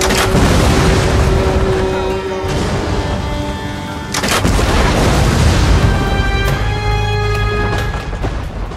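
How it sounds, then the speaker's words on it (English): Massive siege bombards of Sultan Mehmed boom out in heavy, rolling blasts, several deep detonations layered over a dense roaring battle din, loud and close. "the power of Mehmed's mighty cannons was unleashed"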